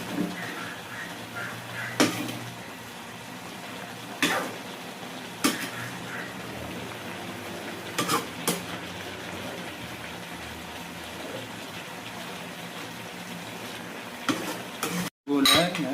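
Igado, a Filipino dish of meat with vegetables, potatoes and carrots, is stirred in a frying pan. A steady sizzle runs throughout, and several sharp spatula scrapes and clanks against the pan stand out. Nobody speaks.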